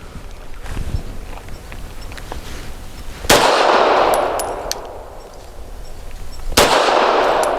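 A SAR USA P8L pistol fires 154 grain subsonic FMJ rounds outdoors, two loud sharp shots a few seconds apart, each with a ringing decay, over quiet background.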